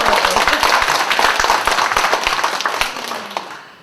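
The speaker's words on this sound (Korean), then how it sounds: "박수 우리 스스로" An audience at a lecture claps loudly for several seconds, many sharp overlapping hand claps that gradually thin out and fade toward the end.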